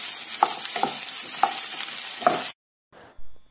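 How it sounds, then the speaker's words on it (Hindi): Mushrooms frying in a pan for mushroom do pyaza, a steady close sizzle with a few sharp stirring knocks of a utensil, stopping abruptly, then a brief quiet clatter. "हल्का हल्का फ्राई कर लेंगे इनको।"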